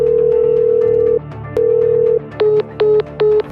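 A telephone call rings out with two long, loud tones in a row, then three short beeps in quick succession, heard alone and close.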